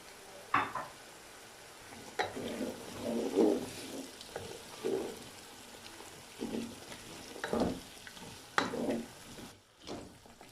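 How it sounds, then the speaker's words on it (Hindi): Hard carrots being fried in spices in a pan on the stove give a soft, continuous sizzle broken by repeated bursts of stirring and scraping, heard close up with no voices. "इनको मैं थोड़ी देर भून लूँगा।"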